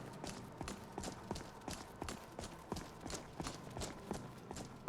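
Horses in the Skyrim video game make a steady, rhythmic clip-clop of hooves that repeats evenly throughout, fairly faint and alone.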